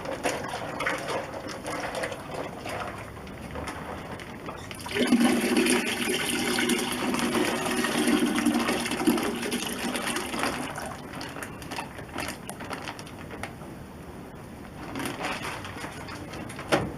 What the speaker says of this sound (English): We're going to top it up with water